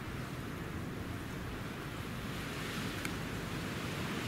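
Winter wind blowing steadily around an outdoor wind turbine and anemometer, a continuous broad rushing roar buffeting the microphone with no pauses.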